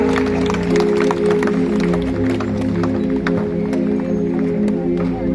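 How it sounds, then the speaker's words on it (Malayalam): Audience applause sending off a bishop at a silver jubilee reception in a church setting, a dense sustained clapping under a steady musical drone and background voices throughout. "നമ്മുടെ കൈയടികളോടെ പിതാവിനെ നമുക്ക് യാത്രയാക്കാം"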